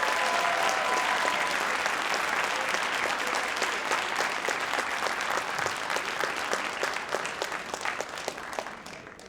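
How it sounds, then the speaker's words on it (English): Audience at a spring Dean's List recognition ceremony gives supporters a sustained round of applause, dense steady clapping from a full room that holds across the whole stretch and tapers slightly near the end. "So let's give all of your supporters a round of applause"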